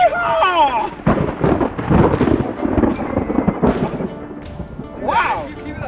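Thunder from a lightning storm in Tornado Alley rumbles and cracks in several loud rolling bursts, with people talking over and between the booms.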